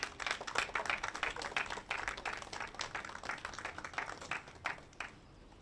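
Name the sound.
applause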